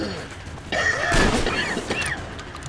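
Gunshots from a gun in Metro Exodus, a few heavy booming blasts with a crashing tail, mid-distance, mixed with other game noise.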